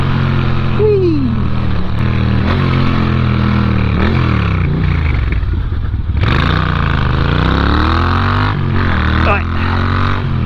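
A Moto Guzzi motorcycle is ridden on the road, its engine loud and close as it revs up, drops back and shifts through gears with rising and falling pitch under steady wind noise.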